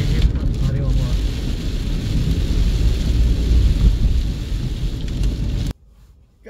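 Heavy rain and rumbling thunder roar steadily on a road at night, a dense loud wash of noise that cuts off abruptly near the end, leaving near silence.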